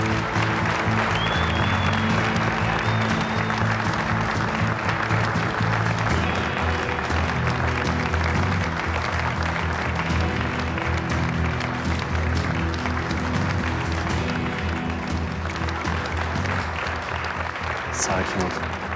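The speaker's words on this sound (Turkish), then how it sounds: "Kozan markasının yaratıcısı Yiğit Kozan'ı alkışlarınızla buraya davet ediyorum." An audience at a brand launch event applauds in a long, steady wash of clapping that carries on for nearly twenty seconds, with voices and a low background drone underneath.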